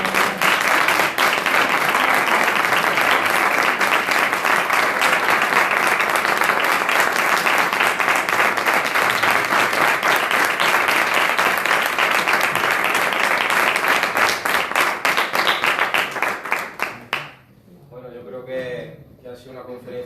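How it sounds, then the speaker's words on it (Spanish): At a book presentation and talk on religious imagery, the audience claps loudly and steadily for about seventeen seconds before the applause dies away and a voice begins speaking. "Un aplauso."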